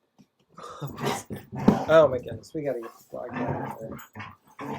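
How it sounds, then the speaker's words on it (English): Dogs play and growl in a home in Columbus, Ohio, with barks and rough growls mixed in under close, continuous talking. "You can hear the dogs playing in the background"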